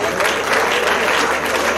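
At a Nigerian Society of Engineers graduate membership induction ceremony, a crowd claps in a brief, steady burst of applause that stays fairly loud throughout.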